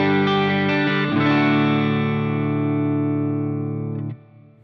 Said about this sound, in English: Let's do a studio reverb.